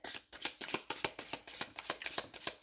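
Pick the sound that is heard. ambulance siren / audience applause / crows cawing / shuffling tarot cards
shuffling tarot cards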